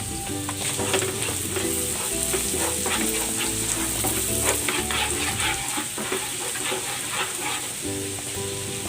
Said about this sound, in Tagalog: Igigis ako na tong bawang. At ang sibuyas.